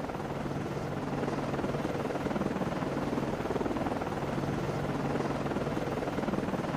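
Steady, distant helicopter rotor drone from an aircraft in flight in the naval game Cold Waters, a continuous low whirring hum at constant level with no talk over it.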